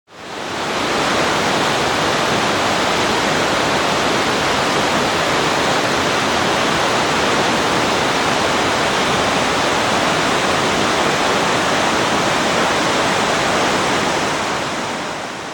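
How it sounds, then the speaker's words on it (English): River water rushes steadily through a valley below a hillside restaurant and bridge, a loud, continuous broadband roar that holds even and unbroken from start to finish with no voices. "Below us, the water was rushing through the valley,"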